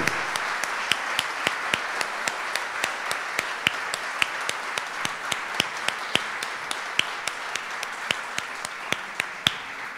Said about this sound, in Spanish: quiero pedir un reiterado y fuerte aplauso para los homenajeados